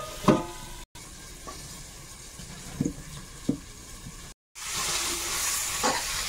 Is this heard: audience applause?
no